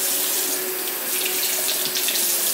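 Water runs steadily from a household sink tap into the basin, close and continuous, as a child plays and splashes in it, with no talking over the flow.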